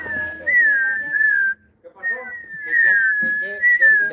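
Loud, sustained whistling with sliding pitch, two long phrases separated by a brief pause, close to the listener.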